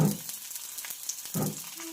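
Cabbage dhapata flatbread fries on a hot pan as oil is dribbled around its edges. Loud sizzling crackles in two stronger bursts, at the start and again a little past the middle, with no talking.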